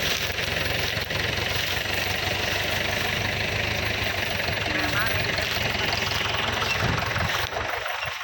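A tractor engine runs steadily at a moderate distance, a continuous low rumble with faint knocking, while a voice is heard faintly at times in the background.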